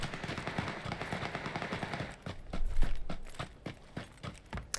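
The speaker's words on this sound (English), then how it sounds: "I can hear gunshots, so there's someone fighting someone very close by" Sharp gunfire cracks in a rapid irregular series, close by, in the video game PUBG, over a dense background rumble that drops away partway through.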